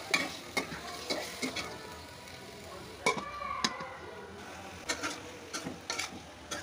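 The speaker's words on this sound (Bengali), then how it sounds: "দই দিয়ে একটু নাড়াচাড়া করে ঢাকনা ঢেকে দেব।" Meat with two spoonfuls of yogurt is stirred in a pot on the stove, with a spoon scraping in irregular strokes over a soft, steady sizzle. Occasional sharper clinks of metal on the pot stand out, and no one speaks.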